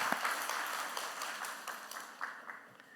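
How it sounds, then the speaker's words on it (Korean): Church congregation applauding at a Korean service after an orchestra performance and a guest's talk, a fairly faint, steady patter of many hands clapping that thins out toward the end. "한 번 더 격려의 박수 보내주시기 바랍니다."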